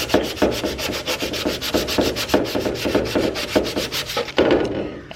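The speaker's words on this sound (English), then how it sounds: "sandpaper's getting a little worn down" Sandpaper scrubs chalk paint off a metal cubby shelf in quick, even back-and-forth strokes, close and rhythmic, stopping briefly just before the end.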